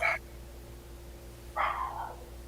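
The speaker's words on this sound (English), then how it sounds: "Someone's dog is barking." A dog in a home barks twice, with short, fairly loud yaps about a second and a half apart over a steady low hum, no talking in between.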